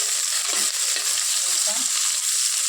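Onions sizzling in a pan while being cooked for chicken leg-piece rice. A dense, steady hiss of frying runs close and loud throughout, with faint stirring clinks.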